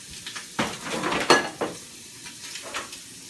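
Ham frying in a pan, a soft sizzle under several scraping and clinking stirs of a utensil, close and uneven in rhythm.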